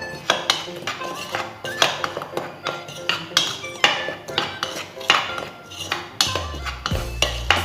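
Brinjal is mixed with salt and chilli powder in a bowl: a spoon clinks and scrapes against the dish in a quick, regular rhythm of close, sharp strikes.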